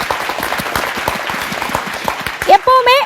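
Audience clapping fills a packed hall during a singer's birthday tribute event, a dense steady wash of applause that gives way near the end to a voice starting to speak.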